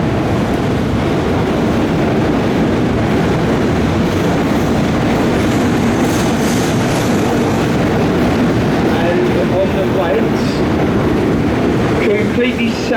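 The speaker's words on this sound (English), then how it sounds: "It's a very noisy bridge, the railway, Charing Cross." A train rumbles across the Charing Cross railway bridge over the Thames, heard from a river boat as a loud, continuous clattering roar with faint squeals near the end, voices mixed in.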